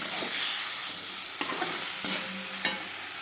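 Eggs with cauliflower and potato stir-fried in a pan, a steady close sizzle with a few sharp scraping clicks of the spoon against the metal, no voices.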